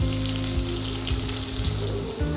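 Green chillies and curry leaves frying in oil in a home kitchen, a steady close sizzle under a low droning hum that rises and dips, no talking.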